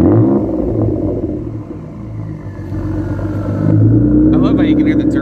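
A Ford EcoBoost engine with its muffler deleted revs loud and close, blipping the throttle over a steady rumbling idle, with the turbo's whistle faintly audible and someone talking over it.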